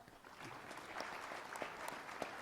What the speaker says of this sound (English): Yeah, go ahead, clap.